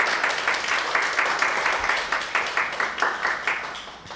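Church congregation applauding as the pastor comes forward, a sustained round of clapping at moderate level with gentle rhythmic swells in intensity throughout.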